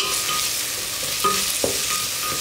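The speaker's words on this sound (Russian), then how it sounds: "И это все 1 минуту обжариваю." Ginger, garlic and chili pepper frying in a pan as they are stirred, a steady close sizzle with a few soft scraping stirs, no voices.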